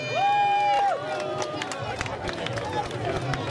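Crowd applauding a children's football team parading with their trophy in Piazza del Popolo during the Mediolanum Baby Cup, with steady outdoor clapping and crowd hubbub under a loud whistle-like tone and voices.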